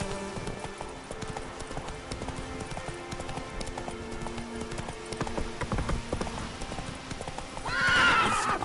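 Horse hooves clip-clop at a steady trot in The Witcher 3 open world, continuous throughout, with game music beneath and a short whinny near the end.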